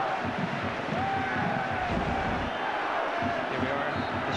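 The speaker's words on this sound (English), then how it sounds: "once more, the crowd celebrate." Football crowd at a Glentoran match in April 2005 celebrating a goal, a steady broad roar of cheering that runs loud and continuous across the whole stretch with no distinct voices standing out.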